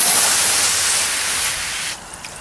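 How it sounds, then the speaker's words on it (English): Water from a Little Big Shot Super Nozzle hose attachment sprays in a steady broadband hiss, close and loud, then drops off sharply near the end. "it does have that real fine little stream coming out"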